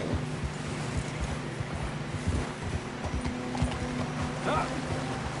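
A horse crossing water in Red Dead Redemption 2, its hooves clopping and splashing steadily and close by amid the ambient wash of flowing water.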